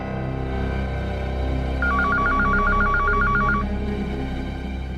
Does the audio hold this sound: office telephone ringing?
yes